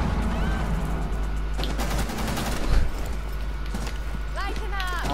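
Gunfire bursts in the Rainbow Six video game, sharp shots crackling over game sound and voice chatter, with a louder cluster of impacts near the middle of the exchange.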